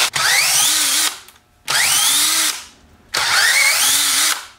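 A power tool spins bolts out of a Tremec TKO five-speed transmission cover, three loud, close bursts of whining, each about a second long with short pauses between.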